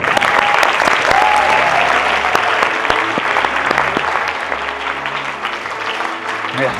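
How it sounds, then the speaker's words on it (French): A crowd breaks into loud, dense applause, a continuous roar of clapping that holds throughout and eases slightly toward the end, with a faint voice or two underneath. "Tonnerre d'applaudissements, musique, tout ça"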